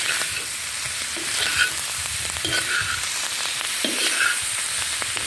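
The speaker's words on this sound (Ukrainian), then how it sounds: "наші грибочки майже обсмажилися" Mushrooms frying in oil in a pan, a steady close sizzle with soft crackles and occasional stirring scrapes throughout, no voices.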